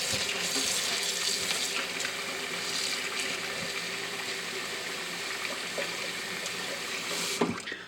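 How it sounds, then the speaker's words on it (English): A running kitchen tap pours steadily into a sink as dill is rinsed beneath it, a continuous close rushing hiss with faint handling clicks and one brief knock near the end. "I think I'm supposed to rinse this."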